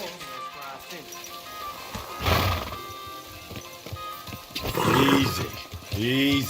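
A horse in Kingdom Come: Deliverance 2 neighs twice with loud whinnies, amid hoofbeats and a busy background of music and effects.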